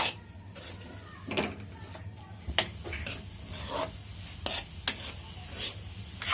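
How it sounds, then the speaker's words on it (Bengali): A utensil scrapes and rubs inside a pot while binni sticky rice is stirred with jaggery, giving irregular gritty strokes and occasional knocks against the pot, close and fairly quiet. "এমনভাবে নাড়বো যাতে গুড়টা ভাতের সাথে"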